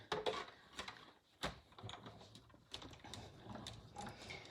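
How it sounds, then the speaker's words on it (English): A Stampin' Up embossing machine being cranked with paper fed through, giving close, faint clicks, ratcheting knocks and mechanical grinding in an uneven rhythm. "Pop it through my Stampin' Up embossing machine"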